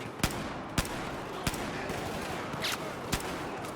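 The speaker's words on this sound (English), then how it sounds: "Just laying down some suppressing fire right now." Suppressing fire from a QBZ rifle in Battlefield 4, a string of sharp separate shots spaced roughly half a second apart over a steady dense background of battle noise, with no voice.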